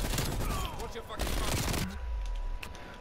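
Bursts of light machine gun fire from an RPD in a first-person shooter, rapid and fairly close, running through most of the stretch with a voice talking over part of it.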